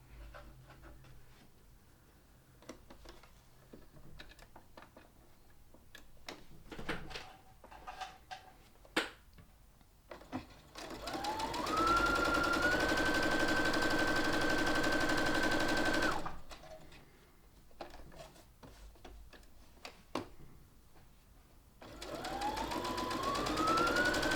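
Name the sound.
sewing machine continuously sewing bunting flags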